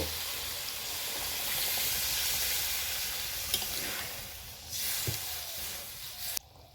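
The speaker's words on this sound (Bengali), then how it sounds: "এখন আমি গ্রেভির জন্য পরিমাণ মতো জল দেব" Steady, close sizzle of spiced tomatoes and potatoes frying in a pan as water is poured in for the gravy of a potato and egg curry. The hiss shifts partway through, with a few light clinks and no talking.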